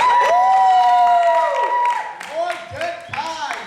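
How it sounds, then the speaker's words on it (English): An audience cheers and whoops loudly on cue for someone at a youth gathering, with raised voices shouting over one another before tapering into scattered yells. "I want everyone to cheer for Mordecai. Ready? 1, 2, 3."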